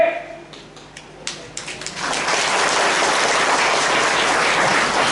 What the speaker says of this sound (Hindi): लेकिन आप लोग ताली मार रहे हैं